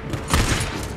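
Gunfire in the video game Days Gone, heard as a loud, dense burst of shots during a fight at an enemy camp, close and alone with no voices over it.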